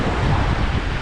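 Rushing water from a waterfall on a river makes a loud, steady roar that fills the whole short stretch with dense, broadband noise.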